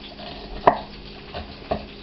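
A knife cuts a red onion on a board for crockpot beans: three crisp, separate chops spaced about a second apart, the first the sharpest, over quiet kitchen background.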